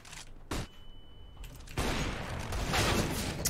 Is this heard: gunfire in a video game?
yes